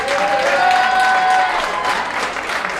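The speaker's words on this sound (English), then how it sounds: "Please give him a huge, huge applause." A crowd applauds a boxer standing in the middle of the ring at a CEO boxing event, a loud continuous burst of clapping with a few whistles rising above it, steady throughout.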